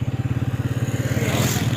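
A motorcycle being ridden on a foggy, cold day, its engine giving a steady pulsing thrum close by with wind noise rising toward the end, no talk over it.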